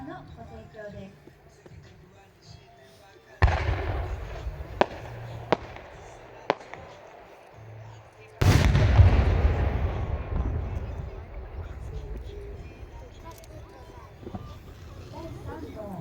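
Fireworks burst over Terrace Hanabi in Iwate, Japan, in a night display. Two deep, booming blasts land several seconds apart, with sharper crackling pops in between, and a rumbling echo trails after each boom. They sound loud and fairly close.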